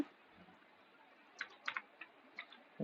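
Light keystrokes on a computer keyboard while entering a formula in an MS Excel spreadsheet: a few separate taps and a short cluster of clicks over faint background hiss, no talking.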